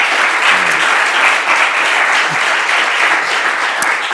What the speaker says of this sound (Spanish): Diego Galaz, le vamos a dar un fuerte aplauso a él.